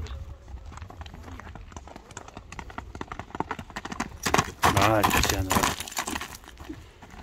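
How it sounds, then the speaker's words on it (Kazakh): A horse's hooves clop over a rough, gravelly surface, the steps growing louder and faster midway, with people talking nearby. "Таш шагал жолдорго сынап көрөлү."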